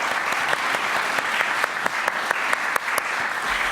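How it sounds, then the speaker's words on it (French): A colloquium audience in a Paris hall applauds an encyclopedia's publication, with thick, continuous clapping at a fairly loud level and a few sharper individual claps standing out from the mass. "je vous prie que nous les applaudissions de la parution de"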